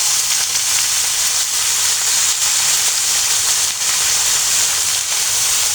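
Boiled vegetables hitting hot ghee with capsicum in a pan for a broccoli stir fry give off a steady, loud, hissing sizzle that continues evenly with no talking.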